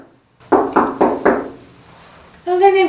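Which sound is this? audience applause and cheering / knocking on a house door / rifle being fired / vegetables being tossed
knocking on a house door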